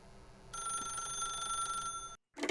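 A telephone rings in the video game The Stanley Parable: one steady, bright electronic ring lasting about a second and a half, cut off, then a brief burst of another sound after a moment of silence.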